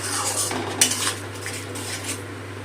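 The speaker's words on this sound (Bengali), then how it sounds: "গ্যাসটা কমিয়ে মশলাটা কষিয়ে নেব।" A utensil stirs and scrapes masala with cashews and yogurt in a pan over low gas for a doi katla fish curry, with clinking metal strokes and a soft sizzle over a steady low hum, no voices.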